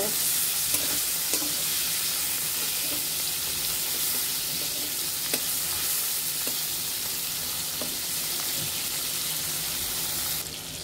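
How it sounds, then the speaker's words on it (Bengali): Prawns turned over as they fry in white oil in a wok, a continuous close sizzle with scattered scraping and clinking spatula sounds. "মাছগুলো এখন উল্টিয়ে নিব।"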